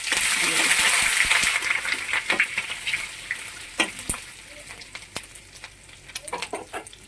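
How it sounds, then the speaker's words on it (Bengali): Crushed ginger and spices fry in hot oil, starting with a dense crackling sizzle that thins into scattered pops and sharp spits, close by. "দেখো খুব সুন্দর করে আমার তেলটার সাথে আমার মশলাটা ভাজি হয়ে যাচ্ছে"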